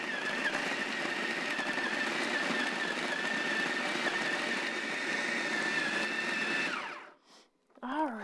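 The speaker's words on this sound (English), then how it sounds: "pulse these in a food processor, and they're gonna make the food processor kind of freak out and shake a little bit" A food processor pulses raw pumpkin pie energy bar ingredients, a loud steady whirring grind with rattling shake that runs continuously for about seven seconds, then cuts off and winds down, followed by faint handling noises.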